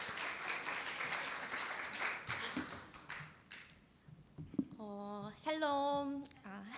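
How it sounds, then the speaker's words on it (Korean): A congregation claps during an afternoon church service, a steady wash of applause for a few seconds that fades as a person begins speaking up close. "뻘쭘하니까 박수라도 네"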